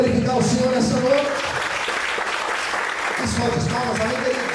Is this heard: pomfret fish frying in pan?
no